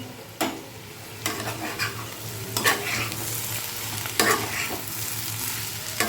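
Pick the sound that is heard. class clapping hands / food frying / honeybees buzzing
food frying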